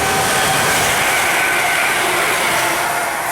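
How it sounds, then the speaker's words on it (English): A London Midland train passes at Cheddington, a loud, steady broadband rumble and rush of wheels and air sustained for the whole stretch, with no talk over it. "Next train to pass to London Midland."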